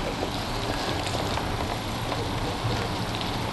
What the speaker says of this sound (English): Big waterfall up here.